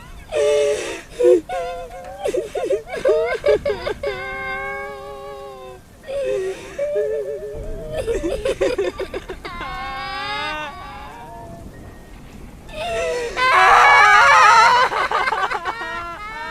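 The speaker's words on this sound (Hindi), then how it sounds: "उनको एक औरत की रोने की आवाज़ सुनाई दी।" A woman cries and wails in uneven, sobbing bursts with gasps between them, rising to a louder anguished wail near the end.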